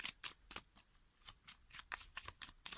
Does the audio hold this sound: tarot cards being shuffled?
yes